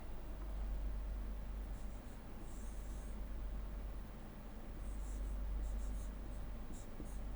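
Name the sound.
writing an expression by hand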